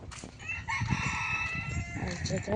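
A rooster crows nearby, a long drawn call, with hens clucking around it.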